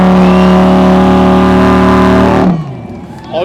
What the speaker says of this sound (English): Lamborghini, no revving